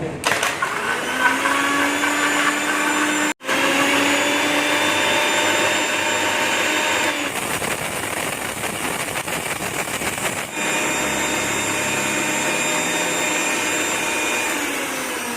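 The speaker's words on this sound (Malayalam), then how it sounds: "ഇനി അടുത്തതായിട്ട് നമ്മൾ മാംഗോ അടിച്ചെടുക്കുകയാണ്" A mixer grinder whirs loudly as it blends mango with tender coconut water and ice cubes. The motor's steady whine cuts out briefly and then restarts, its tone shifting roughly as the contents churn.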